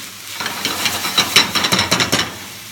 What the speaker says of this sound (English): We're now frying again. Can you hear the frying?